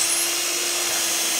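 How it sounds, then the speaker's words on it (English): A power drill bores holes into a multifunction workbench top, a loud, steady high whine that holds an unchanging pitch throughout with no talk. "I'm going to clamp this and I'm going to drill."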